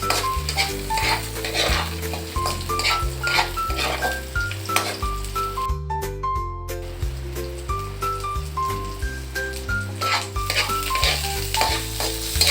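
Garlic, onion and ginger sautéing in a pan before mussels go in, a constant close sizzle broken by rhythmic spatula scrapes and clinks against the metal, with background music playing underneath.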